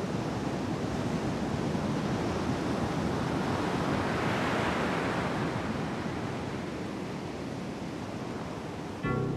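Steady, full roar of ocean surf breaking on the shore of Réunion island, a continuous wash of waves that swells slightly midway, with no voices.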